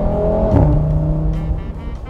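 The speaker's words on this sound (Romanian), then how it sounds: "E un sunet așa mai gros puțin când schimbă, chiar îmi place." An Audi RS3 engine revs hard with a deep, throaty drone, broken by a short pop at a gear change before the note settles back into a steady hum.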